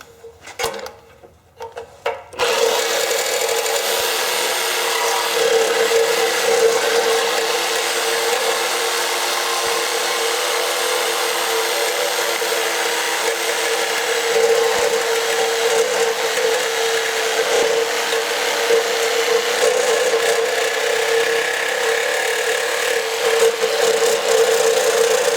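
Power tool cutting through an intercooler during a Jetta GLI intercooler swap, a loud, sustained high whine with steady grinding after a brief start, running alone for most of the stretch.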